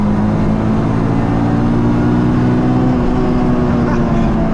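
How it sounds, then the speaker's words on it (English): A Honda Del Sol with a swapped-in Integra Type-R engine roars continuously at high revs, a steady dense drone with no pauses, close and dominant throughout. "This engine, it just likes to rev and rev."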